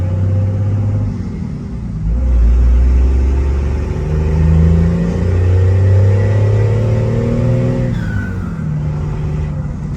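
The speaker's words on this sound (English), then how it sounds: "about to take it on a test drive" A second-generation vehicle with a new clutch on its first test drive, engine rumbling and rising and falling with steady driving and revving, close and loud throughout with no talk.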